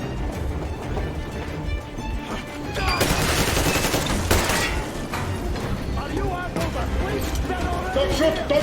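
Gunfire in the Metro Exodus video game during an armored train battle, with bursts of shots and clattering mechanisms under loud game chaos and shouted speech throughout.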